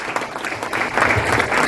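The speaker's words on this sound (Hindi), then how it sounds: "ताली हो गई सबके लिए एकदम।" Audience applause at an investors' summit in Mumbai, a dense wash of clapping from a large crowd that swells louder toward the end, with little talk over it.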